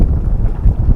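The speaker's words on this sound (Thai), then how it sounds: "ลมก็แรงครับ" Strong wind blows outdoors on a boat, buffeting the microphone in loud, low gusts that surge and drop over a single second.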